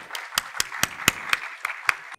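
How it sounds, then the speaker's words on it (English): Small audience at a talk on agriculture in Hispaniola offering a round of applause for an artist, a short run of about nine distinct, evenly spaced claps, fairly faint and alone. "Let's give a round of applause."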